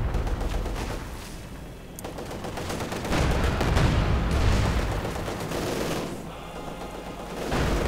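Rapid machine gun fire rattles through a Company of Heroes 2 battle, with bursts from Soviet Guards infantry light machine guns layered in a continuous mid-distance clatter of gunshots and rumbling combat noise.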